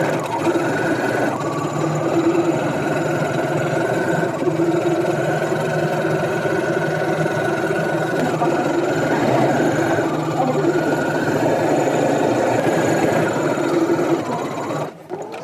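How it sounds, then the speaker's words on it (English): A sewing machine running steadily as it stitches down a waistband before elastic goes in, a close, continuous mechanical hum and whir with only slight changes in pace over a long stretch. "I'm gonna sew the waist up, and then put the elastic in"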